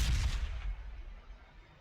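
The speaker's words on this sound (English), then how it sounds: "So how about we just toss a crack grenade at you?" A crack grenade goes off in the Warhammer 40,000: Sanctus Reach strategy game, a loud, booming blast that rolls away into a fading low rumble, with no voices over it.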